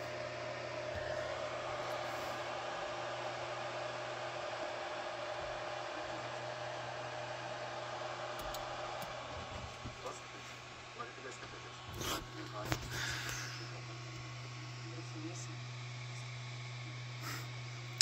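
An Ender 3 V2 3D printer runs with a steady broadband whir and hum that continues throughout, with a few brief clicks and knocks near the middle; people talk over it.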